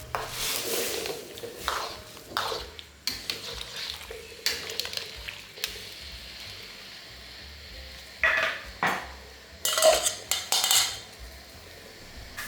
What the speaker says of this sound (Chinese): 准备1锅水烧开，然后把莲藕放进来汆烫